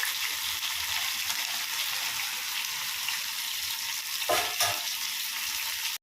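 Prawn 65 and fish frying in hot oil, a steady close sizzle throughout with a brief stir or splash of bubbling near the end.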